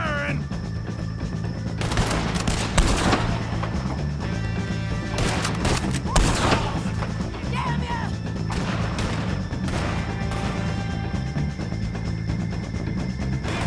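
A Red Dead Redemption 2 shootout against O'Driscolls, with loud repeated gunshots and cracking volleys scattered throughout over background noise, and voices shouting in the fight.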